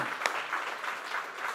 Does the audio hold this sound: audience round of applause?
yes